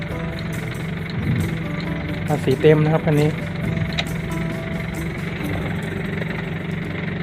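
An Isuzu TFR pickup truck engine idles with a steady low rumble while someone talks nearby over it.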